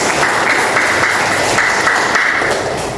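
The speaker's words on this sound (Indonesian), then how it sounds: "Beri tepuk tangan." A classroom of students applauding together: dense, steady clapping that stays loud and even for the whole stretch, with no voices.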